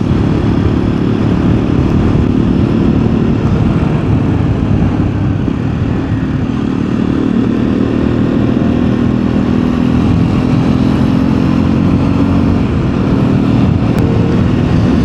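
A new Hero Xpulse 210 motorcycle engine drones loudly and steadily while riding in fifth gear near Solan, a continuous close rumble with wind noise and no pauses.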